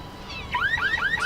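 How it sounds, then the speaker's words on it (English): A car alarm in the PC adventure game Black Mirror II: Reigning Evil starts after a short quiet lead-in, then sounds a loud run of rising, warbling electronic chirps that repeat steadily to the end. "I wonder if I can get her attention by triggering the car alarm."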